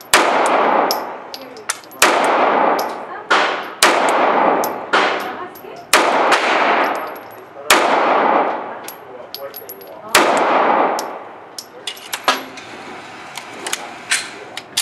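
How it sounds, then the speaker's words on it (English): Gunshots strike steel targets at a shooting range, each sharp crack paired with a ringing metallic clang, fired in repeated strings a couple of seconds apart, loud and close. "Shots to the chest."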